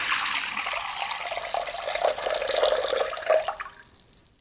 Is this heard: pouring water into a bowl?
yes